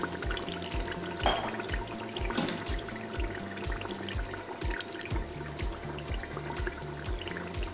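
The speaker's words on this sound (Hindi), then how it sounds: "हाफ ग्लास ऑफ वाटर डाल दूंगी।" Half a glass of water poured into beef qorma with ground browned onions in a home kitchen, a steady continuous splashing pour heard close up over a faint background hum.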